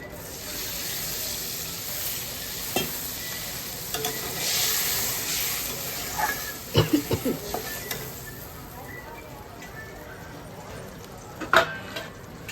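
Water poured into a hot pan for hilsa fish curry with turmeric, a brief splash followed by sizzling and stirring, with a few sharp scraping knocks near the end.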